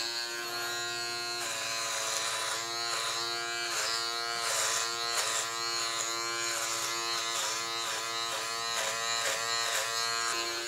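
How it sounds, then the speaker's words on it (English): A Philips Multigroom Series 5000 clipper buzzes steadily while trimming a thick beard, a close electric hum with rhythmic pulsing changes in pitch as the blades pass through the hair. "Certainly no issues at all with the way that this clipper's cutting my beard"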